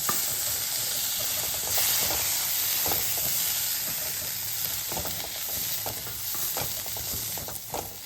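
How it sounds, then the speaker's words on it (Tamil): Boiled cowpeas are stir-fried with garam masala in a pan, giving a steady sizzling hiss with repeated scraping stirs of the spatula, close by and without talk. "இப்போ வந்து வேக வச்சு எடுத்த காராமணியை சேர்த்துறேன்"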